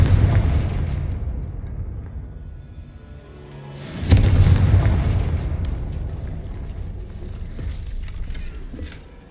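A Confringo blasting spell from Hogwarts Legacy detonates with a deep, booming explosion that swells suddenly at about four seconds and rumbles away slowly, following a fainter fading blast at the start, with no voices.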